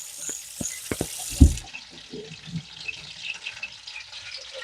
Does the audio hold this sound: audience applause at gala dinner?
no